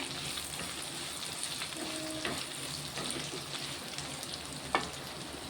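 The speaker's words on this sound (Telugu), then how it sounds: "ఆలు ఫ్రై అయినాయి కొంచెం ఇలా ఒక రెండు పచ్చిమిర్చి కట్ చేసి వేస్తున్నా" Potatoes fry in a pan with freshly cut green chillies added, giving a steady close sizzle and crackle throughout, with occasional scrapes and clinks of stirring.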